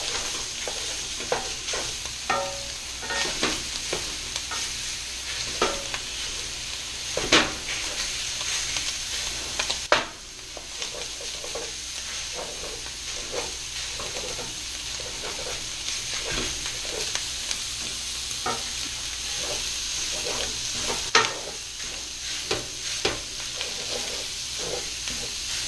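Sausages for a homemade lasagna sizzle and crackle steadily in a frying pan, with occasional sharper pops and spits standing out from the continuous hiss, no talking.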